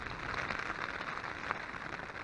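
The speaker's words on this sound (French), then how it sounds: "il y a une putain de pluie là toute la nuit" Heavy rain falling all night on a campsite, a steady dense patter with faint hiss throughout and no voices.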